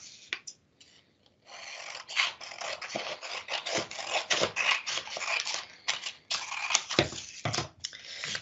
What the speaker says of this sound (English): We're now going to cut off this strip down the side that we don't need with our scissors.